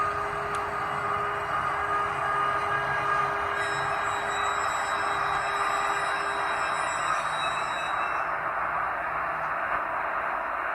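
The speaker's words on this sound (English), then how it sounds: "the locomotive has a custom brake squeal that plays when the model comes to a halt" A WAP4 model locomotive sound file for a LokSound 5 decoder plays a custom brake squeal as the model halts, a steady high-pitched screech with tonal whine held loudly and continuously throughout, with no talk.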